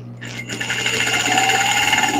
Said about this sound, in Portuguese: Vou passar uma costura primeiro aqui na ponta.